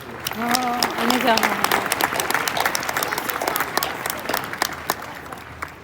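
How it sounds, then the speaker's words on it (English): An audience at a live event breaks into a round of applause. A voice is heard briefly at the start, then dense, sustained clapping continues steadily throughout. "Round of applause for our VIPs"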